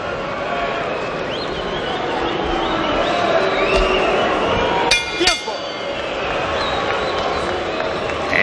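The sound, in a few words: restless boxing arena crowd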